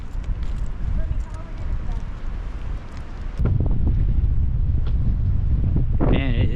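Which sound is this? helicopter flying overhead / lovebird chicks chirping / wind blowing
wind blowing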